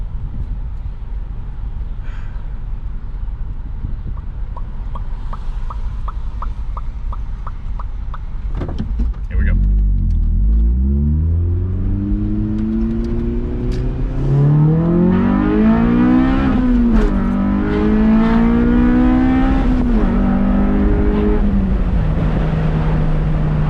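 Honda Del Sol accelerating hard from a stoplight, a close engine roar climbing through the gears with rising pitch, brief drops at shifts, starting from a quiet idle.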